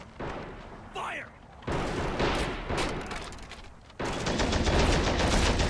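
Battle gunfire from the Men of War Assault Squad 2 video game fills the scene: loud, dense bursts of rapid automatic fire with a brief pause between them, and a voice speaks early on.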